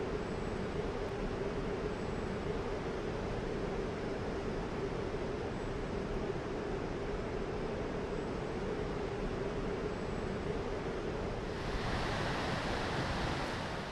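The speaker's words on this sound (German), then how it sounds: "Der Gullfoss gilt als der schönste Wasserfall Islands." The Gullfoss waterfall in Iceland, a massive cascade roaring as a steady, dense rush of water that fills the whole clip without pause.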